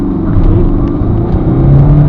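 A 2010 Citroen C3 VTR+ 1.4 HDi diesel pulls away hard from a standstill on a dry road, its engine roaring loudly with a deep, steady rumble and rising pitch as heard from inside the car.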